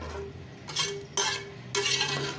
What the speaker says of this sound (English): and stir this very well